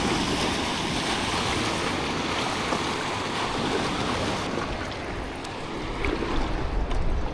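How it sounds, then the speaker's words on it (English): Waves slap and wash against a canoe out on open water in a bay, a steady rushing churn of water and wind noise with no voices. "we're getting into some serious wave action"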